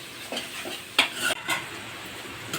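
Turmeric and ginger frying in hot oil in a pan for a bottle gourd dal, heard as a soft, steady sizzle broken by a few quick stirring scrapes and light clinks of a spoon against the pan.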